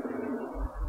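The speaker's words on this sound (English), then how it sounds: "Pigeons." Pigeons cooing in the X-COM: Enemy Unknown video game: a short, soft, low burbling coo that swells slightly toward the end, heard alone.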